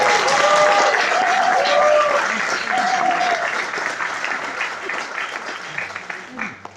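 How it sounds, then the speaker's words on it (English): Sustained applause from a seated audience at a public talk, dense steady clapping that holds loud for several seconds and then gradually thins out toward the end. "I think he deserves another round of applause, ladies and gentlemen."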